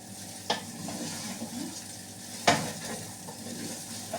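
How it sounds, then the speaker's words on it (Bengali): Rice fries in melted butter in a pan with a soft, quiet sizzle, broken by two sharp stirring scrapes near the start and middle and a few lighter taps. "চালটা ভাজা হচ্ছে"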